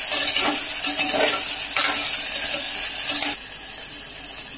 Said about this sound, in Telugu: ఈ విధంగా అన్ని కలబెట్టుకోవాలి